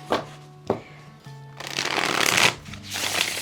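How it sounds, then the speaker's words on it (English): A Peculiar Pathways oracle card deck being shuffled close up: a couple of sharp taps as the cards are squared, then loud, fast riffling bursts of card edges flicking together. "we'll go ahead and give it a shuffle just really quickly so you can see"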